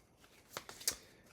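A quick riffle of Aeon's End game cards, two or three crisp bursts of flicking close to the mic in an otherwise quiet room.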